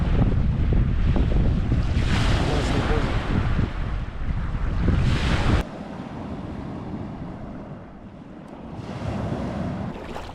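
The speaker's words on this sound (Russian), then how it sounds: "Пока мы обедали, волнение усилилось, но теперь волна стала встречной." Wind and choppy waves on the Lake Baikal shore, loud gusting roar with surf washing in for several seconds, then dropping abruptly to a quieter, steadier lapping with wind rising again near the end.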